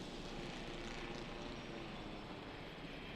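A helicopter in the video game Jurassic World Evolution gives off a steady, muffled rotor and engine drone that holds at an even level throughout, with no speech over it.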